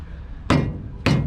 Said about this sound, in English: Might have to get a hammer. Hang on. Let's crack this loose